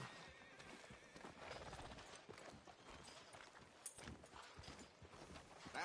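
Horse hooves clip-clop and a horse whinnies in a Red Dead Redemption 2 town street, with game ambience filling the background throughout.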